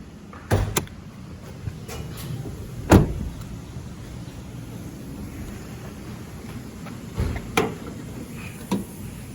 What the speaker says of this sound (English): Let's open the engine bay.